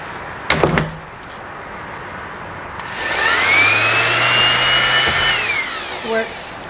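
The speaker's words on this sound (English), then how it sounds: "I'm going to be using my orbital sander" An orbital sander in an empty cabin being prepped for paint gives a click and clatter, then spins up into a loud, steady whirring drone for a couple of seconds before winding down, with no one speaking.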